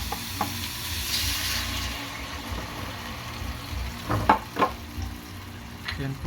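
Pork adobo pieces sizzle steadily in a pan as marinade sauce is poured in, with a constant frying hiss broken by a few clinks and scrapes of stirring up close.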